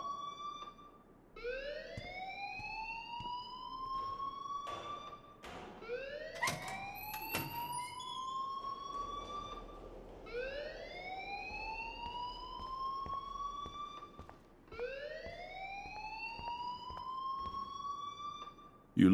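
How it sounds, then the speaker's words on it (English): Looping alarm in the video game Life is Strange, a rising electronic siren-like whoop repeating about every four seconds, steady and prominent, with a few brief knocks between cycles. "please turn off that alarm since that's your job"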